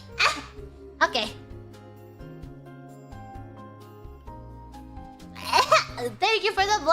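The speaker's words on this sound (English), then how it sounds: "Hold on, I had to sneeze." A VTuber lets out a couple of sharp, close sneezes with giggly vocal sounds around them, set over soft background music.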